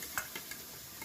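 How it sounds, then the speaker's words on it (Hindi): Ground spice paste for shahi paneer fries in oil with whole cloves, cardamom, cinnamon, bay leaf and cumin, a soft continuous sizzle with a few faint stirring clicks. "सारा पेस्ट ला एकदम बढ़िया से भून लेबो लाल हो तक के।"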